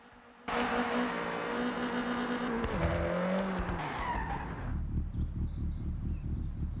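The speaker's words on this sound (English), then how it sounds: "leave your garage and drive the car for around 5 to 7 seconds" A Fiat in the Forza Horizon 6 racing game starts up suddenly with a loud engine roar and a brief tire squeal. The engine revs, shifts pitch, then drops to a lower idle-like rumble.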